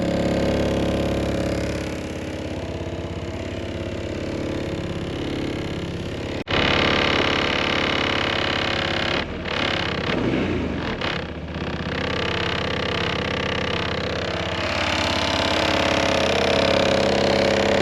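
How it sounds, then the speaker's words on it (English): A Honda SH150i scooter idles steadily while its black plastic panel buzzes and rattles from engine vibration, a close, continuous hum with brief shifts in tone partway through. "Check out the vibrations on this plastic and check out the sound."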